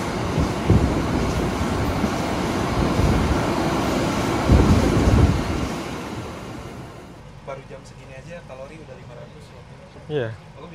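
Argo Wilis passenger train rolling through Gombong station, a loud, close rumble with a low-pitched roar that fades after several seconds to quieter station ambience, with a brief rattle near the end.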